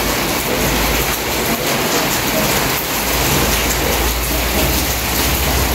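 Heavy afternoon rain pours down in a steady, loud, broadband hiss with no break, close and dense, and no voices over it.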